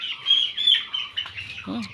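Chickens on a poultry farm give short chirps and clucks close by, a brief busy stretch of calls that ends in a low throaty cluck.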